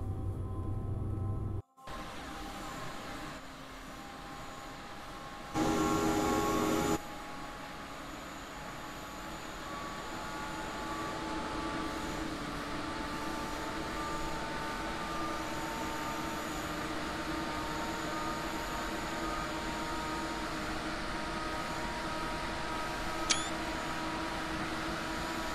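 Locomotive in Train Sim World 3 accelerating toward 120 km/h under automatic speed control: a continuous engine and traction drone with a steady whine, a brief louder burst early on and a faint high ping near the end, with no talk.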